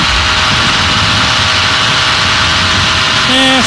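A model aircraft engine runs loud and steady with a dense whine, then revs up to a higher RPM near the end, its pitch rising sharply before settling.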